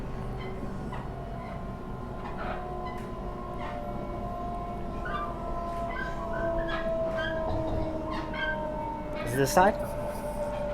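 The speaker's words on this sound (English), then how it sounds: "And there's a double-decker train running through the farmlands." A Sydney Trains T1 double-decker train running through farmland between Richmond and Schofields, a steady rolling rumble with faint motor whine throughout, while a person briefly speaks and a dog barks.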